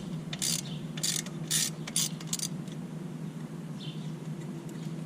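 Ratchet wrench clicking in several quick bursts while loosening a skid plate bolt on a 2020 Kawasaki KLX110L, close and crisp over a low steady hum, no talking.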